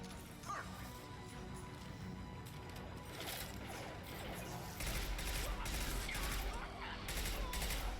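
Sustained gunfire from a combat firefight in the video game Mass Effect 2, dense and continuous, growing louder and more intense in the second half amid crashing impacts.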